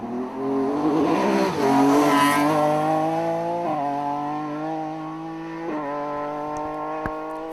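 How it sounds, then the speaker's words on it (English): BMW rally car with a flat-shift sequential gearbox blasting past on a drying stage road, loud engine roar climbing through rapid gear changes with brief cuts at each shift, then fading as it moves away. "Flat shift sequential gearbox, very effective there."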